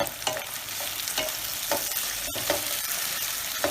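Chopped tomato dropped into a pan of softened, sautéed onions, frying with a steady sizzle broken by repeated soft stirring scrapes and spoon taps at a close distance.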